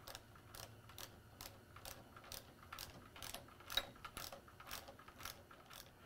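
A ratchet snugs down the clamp bolts on a Renthal 1 1/8" handlebar, giving a quick, even run of faint, close clicks across several seconds, heard alone without talk.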